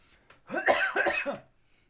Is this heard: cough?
yes